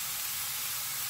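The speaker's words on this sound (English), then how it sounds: "I'm adding the cut vegetable now." Cut vegetables dropped into cooking dal in a hot pot, a brief steady hissing sizzle, close and moderately loud, with no talk.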